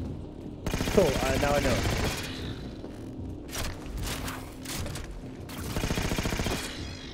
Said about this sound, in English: Oh my god, that's a sentry gun.